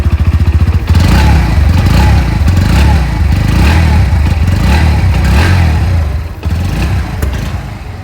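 A Bajaj Pulsar NS125 motorcycle engine idles with a loud, throbbing exhaust putter, then revs up in several bursts before settling back.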